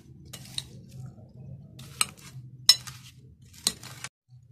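A spoon scrapes and clinks against a bowl while creamy fruit chaat is stirred, soft squelchy mixing punctuated by a few sharp metallic taps, close and fairly quiet.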